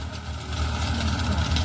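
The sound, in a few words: tractor engine running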